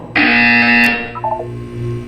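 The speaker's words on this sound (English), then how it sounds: "You will hear a buzzer. When you hear the buzzer, look up at the ceiling." A loud, harsh buzzer sounds in the Portal 2 video game, a sustained tone lasting about a second that cuts off, followed by faint electronic tones and a low hum.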